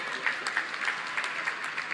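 A crowd at an Olympic athletes' honouring ceremony in Lucknow applauds steadily, a dense moderate patter of many hands with occasional louder claps standing out.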